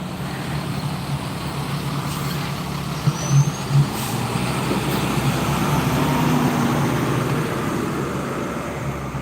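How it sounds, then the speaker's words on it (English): A tow truck rolls up to a Tesla crash scene at a 405 freeway entrance in Fountain Valley, its heavy engine rumbling steadily over constant road noise, with a couple of brief air-brake chirps partway through. "I believe the tow truck's just showing up now."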